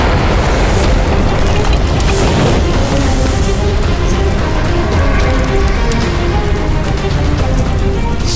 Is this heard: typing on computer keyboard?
no